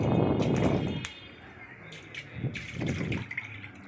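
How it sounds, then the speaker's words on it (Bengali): Milk, close to a litre, pours into a wok in a steady gushing stream for about a second, followed by quieter splashes and a few faint drips and trickles. "সব দুধটা ঢেলে দিলাম আমি"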